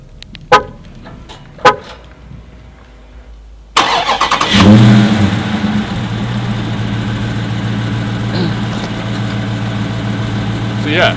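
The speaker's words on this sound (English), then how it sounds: "you first unlock the car and then it should start" A 2023 Dodge Challenger R/T Scat Pack Widebody starts after a couple of sharp clicks, the engine catching with a loud surge and then settling into a steady, deep idle that runs on close by.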